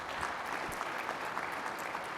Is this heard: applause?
yes